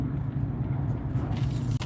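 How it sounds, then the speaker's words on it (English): Steady road traffic rumbling past a car stuck in a jam, a continuous low engine and tyre drone at close range with no talk over it. "I'm stuck in traffic, see?"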